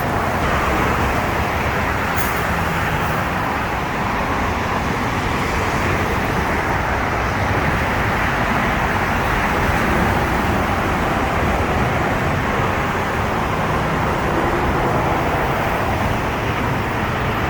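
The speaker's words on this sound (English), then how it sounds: "and there's traffic too" Steady road traffic noise, a dense continuous roar of passing cars and vehicles near a Starbucks at Hastings Ranch, loud and unbroken with no talk.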